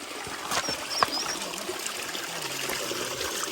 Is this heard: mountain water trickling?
yes